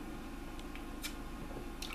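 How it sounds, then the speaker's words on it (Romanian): A person drinks a little water, with soft wet squishing and gulping sounds close to the mic over a low background hum, and no talking. "Așa să beau puțin apă."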